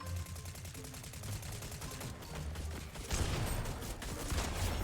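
Double pump shotgun fire in Fortnite Battle Royale, loud repeated blasts mixed with dense game noise, heaviest burst in the last couple of seconds.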